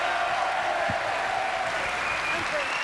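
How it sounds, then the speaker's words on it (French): French television studio audience claps in a short, moderate burst, a continuous soft patter with a faint crowd murmur behind it. "Louise Sorel, vous pourriez l'applaudir, mesdames et messieurs"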